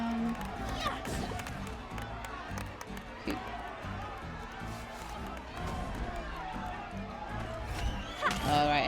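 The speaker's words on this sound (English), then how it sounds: "while the cheering is going on, I can't do anything" Crowd cheering with scattered claps in My Time at Sandrock, the oasis filling up, a busy continuous roar of voices holding steady throughout, with a brighter swell near the end.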